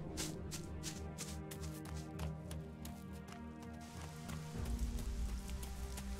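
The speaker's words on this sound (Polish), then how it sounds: "jak się rozpadało" Heavy rain pours down in the video game ELEX, a steady hiss of drops on surfaces with scattered pattering hits, swelling louder and deeper toward the end.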